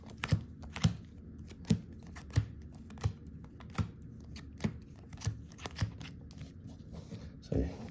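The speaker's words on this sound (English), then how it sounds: "just give this a nice shuffle" A deck of Yu-Gi-Oh cards in Imperium Duelist Pegasus sleeves is shuffled by hand, making a regular series of crisp, close slaps and riffles about every second, with soft rustling between them.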